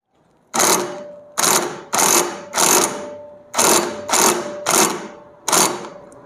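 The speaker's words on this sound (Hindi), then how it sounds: "मैं आइडिया से जो है इम्पैक्ट रेंज से इसको टाइट कर लूँगा" An impact wrench tightens a scooter clutch assembly on a Maestro Edge or Activa, firing eight short, loud rattling bursts in quick succession with brief pauses between them, close and without talk.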